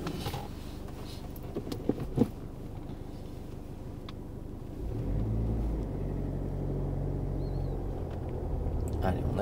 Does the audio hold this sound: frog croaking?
no